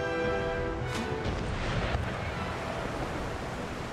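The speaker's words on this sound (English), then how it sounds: "Just fire the guns anyway" Warship cannons boom in an Empire: Total War naval battle, a few heavy distant blasts rolling over a constant wash of sea surf and wind, with no talk.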